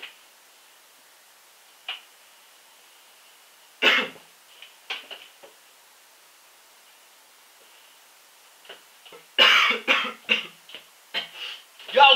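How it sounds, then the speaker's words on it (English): A tickly cough in a quiet school assembly: scattered single coughs and throat clearing, then a closer cluster of coughs near the end. "I had a really tickly cough, and I couldn't help cough"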